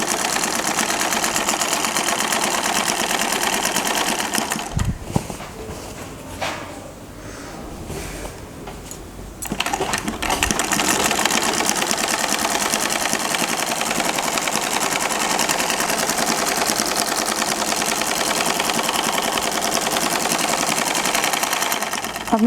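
A sewing machine stitches pyjama fabric in a loud, rapid, continuous mechanical whir, broken by a pause of a few seconds before resuming at full pace; no one talks over it.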